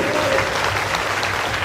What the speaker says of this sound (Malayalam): ഒരു നല്ല കൈയടി കൂടെ കർത്താവിന് കൊടുക്കും